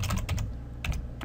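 Computer keyboard typing, a quick run of close, crisp keystrokes in small clusters with a short gap in the middle, no voices.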